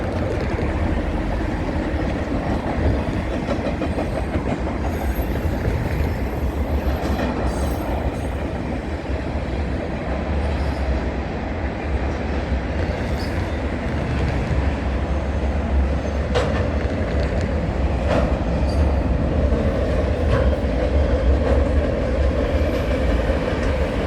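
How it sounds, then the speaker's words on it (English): A VIA Rail passenger train on a detour over the CN Halton Subdivision rumbles past for a long stretch, with steady low roar, rhythmic wheel clatter and occasional metallic squeals, loud and close throughout. "There's the end of that train"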